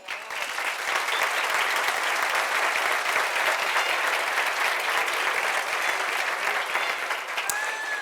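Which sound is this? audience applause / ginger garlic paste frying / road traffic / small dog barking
audience applause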